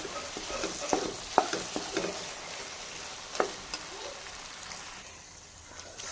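Halwa roasts in a pan while a spoon stirs it, making a steady close sizzle broken by occasional scraping knocks against the pan, with no talking.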